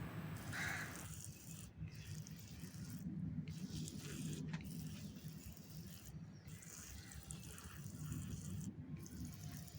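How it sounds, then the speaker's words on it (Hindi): Water poured onto potted oregano plants on a terrace garden, a steady soft splashing and trickling that runs through the whole stretch with a few brief rattles, no voices. "सारों में अच्छे से पानी दे देंगे।"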